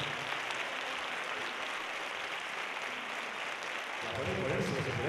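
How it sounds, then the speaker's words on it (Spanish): Audience applause at a Christmas choir and carol contest, a dense, steady wash of clapping lasting the whole stretch, with some voices mixed in and a slight swell near the end. "Un aplauso muy fuerte para Ana María Besa, Ana Fajardo y Margarit"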